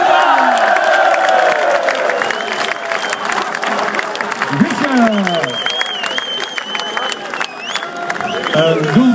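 Outdoor crowd on a town market square claps and cheers for a football player being introduced, loud and continuous, with whistling and a voice cutting through the applause.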